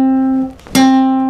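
A single guitar note rings steadily, briefly drops away, then returns as a sharply attacked, stronger note that sustains to the end, played close and alone.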